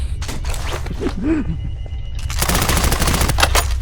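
Bursts of gunfire in a video game, crackling in rapid volleys at the start and again more densely in the second half, with a brief whistling tone between them.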